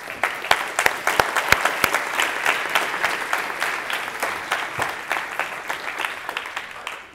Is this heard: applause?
yes